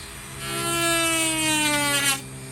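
A Dremel rotary tool cutting during the build of a 1947 Aireon jukebox gives a high, whining buzz that rises as it bites in and drops off near the end, close and fairly loud, with no talking.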